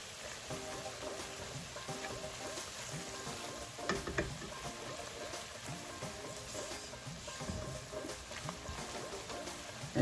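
A tomato, onion, ginger and garlic masala puree sizzles steadily in a pan for saag paneer, a constant close frying hiss with occasional scrapes and stirring clicks, no voices over it.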